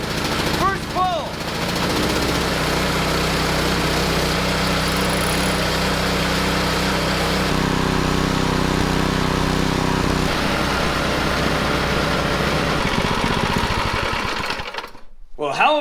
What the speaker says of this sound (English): Let's give this thing some pulls and get it started.